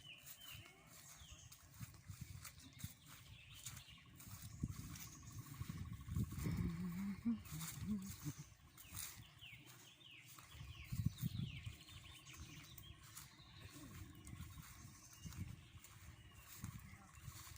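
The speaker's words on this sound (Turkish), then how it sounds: "Allah'ım kuşlar hiç susmuyor ama ne kadar güzel." Birds sing through the forest at a woodcutting spot in the Black Sea region, with steady chirps and calls running the whole time under rustling, movement and scattered voices.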